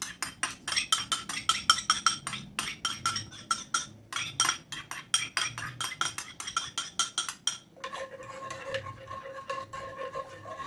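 A utensil stirs a corn cream mixture in a frying pan while making cheesy ube maja blanca, giving a steady run of rapid metallic scrapes and clinks against the pan. The rhythm changes to lighter, ringing taps near the end.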